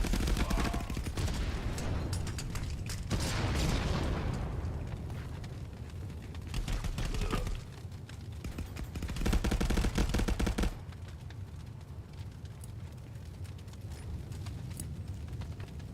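Dense bursts of automatic gunfire and a grenade blast in a competitive shooter video game match, loud and continuous, with heavy rattling volleys and a sharp drop partway through before firing resumes.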